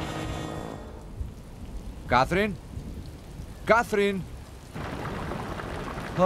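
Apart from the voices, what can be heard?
rain with thunder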